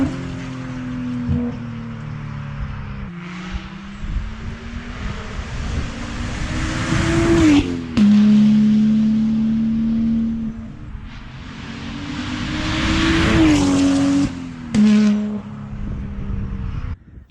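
A BMW M235i with the N55 engine and a modified exhaust rumbles and revs alone, swelling through loud accelerations with drone and pops between, then settling into steady cruising tones.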